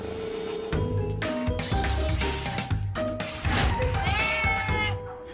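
A domestic cat meows repeatedly, a series of close, clear, drawn-out cries with short gaps between them.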